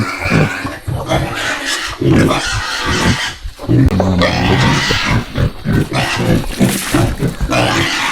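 Pigs grunting and snorting close by, a steady run of low rough grunts, with people talking over them.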